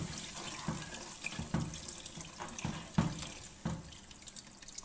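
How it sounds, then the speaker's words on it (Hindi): Water pours and splashes steadily into a cooking pot for several seconds, with soft irregular knocks and drips, close and moderately quiet, no voices. "अब हम इसमें पानी डाल देंगे हसबे ज़रूरत"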